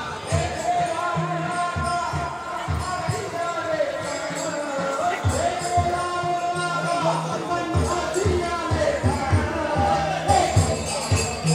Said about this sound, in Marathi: इकडे बघा गर्दी